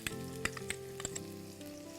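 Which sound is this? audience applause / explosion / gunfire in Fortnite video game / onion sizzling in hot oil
onion sizzling in hot oil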